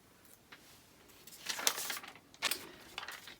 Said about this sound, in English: now I'm ready to cut those pieces out